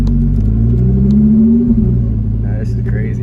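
A Lamborghini Huracan Evo fitted with a VF Engineering supercharger driving, a deep close rumbling engine drone with a brief rise in pitch, heard from inside the car with a voice talking at the end.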